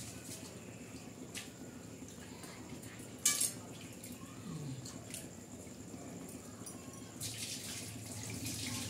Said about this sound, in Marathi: बघा कशी उकळते.